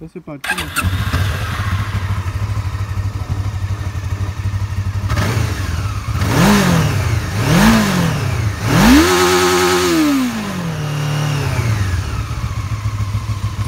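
A 1996 Honda CB500F PC32 motorcycle idles steadily, then is revved in three quick blips, the last one longer, before settling back to a loud, close idle, with someone speaking briefly at the start.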